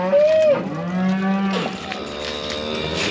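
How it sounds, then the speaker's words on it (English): Cattle low loudly nearby on a farm, several long drawn-out moos overlapping one after another, with no talk over them. "Oh, cows."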